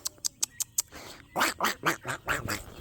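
Several short sharp duck quacks in quick succession, then a run of louder, longer quacks, fairly close and clear.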